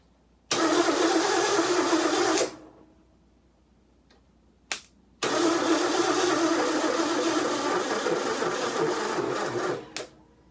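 A 1995 Ford F350 truck engine with a dead battery cranking slowly and laboriously in two long attempts, a rapid grinding churn that never catches, with clicks between tries.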